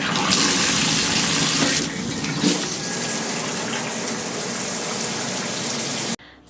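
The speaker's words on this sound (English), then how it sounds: "So let's go hit the shower." Shower water runs in a loud, close, continuous spray that briefly softens partway through, then cuts off abruptly near the end, with no talk.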